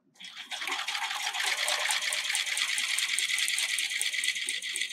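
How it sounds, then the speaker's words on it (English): A domestic sewing machine runs steadily, stitching a narrow zigzag along the scalloped edge of lace, with a fast even needle chatter starting abruptly and continuing close up without speech. "all I'm going to do is sew a very narrow zigzag along the scalloped edge of the lace"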